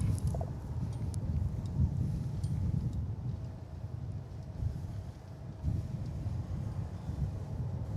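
Steady wind at Dallas/Fort Worth Airport roars and rumbles low and constant outdoors, with gusts swelling slightly, buffeting a microphone for the whole stretch and no talking.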